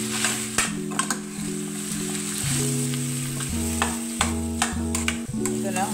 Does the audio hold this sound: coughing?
no